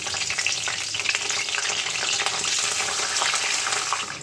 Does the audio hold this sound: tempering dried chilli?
yes